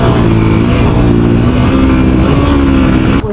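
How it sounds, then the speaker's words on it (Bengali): A Suzuki GSX-R motorcycle racing a Yamaha FZ-V2 on a bypass road, its engine roaring loud and close with a sustained high-revving drone that holds steady throughout. "এখন একটা রেস করবো GSX এর।"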